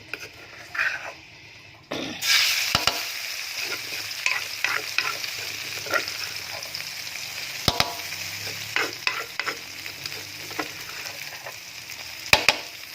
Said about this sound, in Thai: ตั้งกระทะไว้แล้ว เดี๋ยวยายจะเอาเครื่องแกงลงไปเลย